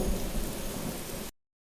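A rain and thunder effect plays: steady rainfall hiss over a low rumbling thunder swell, then cuts off abruptly to silence.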